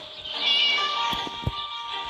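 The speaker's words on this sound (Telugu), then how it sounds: "మియావ్ మియావ్ అని వినిపిస్తుంది కానీ ఆ పిల్ల ఏడుందో కనిపిస్తలేదు" A cat meows a few times in a game setting, its drawn-out mewing calls clear and fairly loud, with a couple of short knocks partway through.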